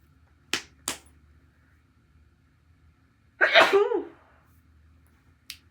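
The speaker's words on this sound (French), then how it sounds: "Je vais éternuer." A single sharp sneeze bursts out in a quiet room, preceded by two brief clicks and followed by a soft tail.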